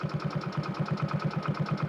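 A new motorcycle's engine idling close by, a steady, even chugging pulse of regular firing beats with no revving or talk over it.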